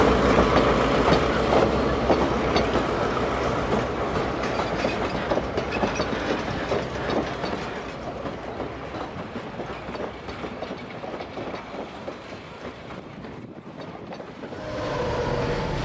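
A Santa Fe passenger train hauled by diesel locomotives rolls past with a steady rumble and rhythmic clickety-clack of wheels on track, loud throughout, easing slightly before swelling again at the end.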